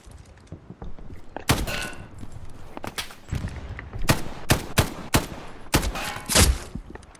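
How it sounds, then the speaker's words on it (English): Gunfire in the World War II shooter Hell Let Loose, with repeated sharp rifle and automatic bursts at irregular intervals, some loud and close and others more distant, over low battlefield rumble. "Shooting them all in the back."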